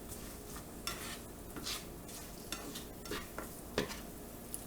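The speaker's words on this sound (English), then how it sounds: "we're just going to stir everything up" A spoon stirs food in a cooking pot, producing repeated soft scraping and clinking strokes at an uneven rhythm over a low steady hiss, close and fairly quiet.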